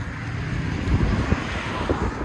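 A 2017 Mitsubishi Lancer 2.0L engine with straight pipe exhaust and a 5-inch tip, giving a loud, steady, rough low rumble with no talking.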